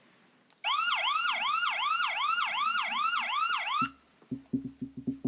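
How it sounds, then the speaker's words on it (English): A loud wailing siren rises and falls in a rapid repeating whoop, then cuts off abruptly, followed by a few short low bursts. "Oh my God. The sirens."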